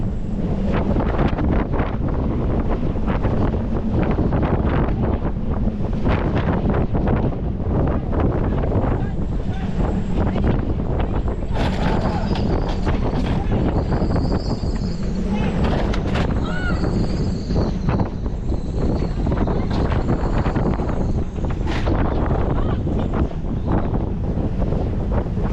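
Loud, constant hurricane wind roars and buffets the microphone throughout, with rushing water and boat noise underneath and voices faintly mixed in.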